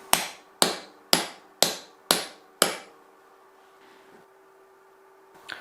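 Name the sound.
hammer tapping bearing into planer cutterhead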